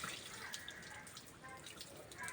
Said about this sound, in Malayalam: വെള്ളം ഓഫ് ആക്കട്ടെ.